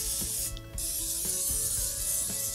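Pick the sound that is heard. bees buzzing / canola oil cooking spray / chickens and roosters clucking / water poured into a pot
canola oil cooking spray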